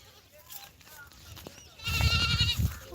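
Goats bleating outdoors while being herded to graze, a faint call early on, then several louder overlapping bleats near the end over a murmur of background voices.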